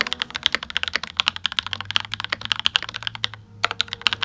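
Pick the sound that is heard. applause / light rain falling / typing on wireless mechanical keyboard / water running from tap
typing on wireless mechanical keyboard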